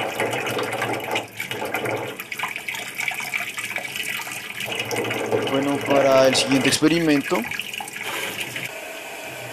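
A steady stream of water pours from a tap during a ping-pong ball experiment, a continuous splashing hiss under someone speaking Spanish, with a brief gurgling burst midway.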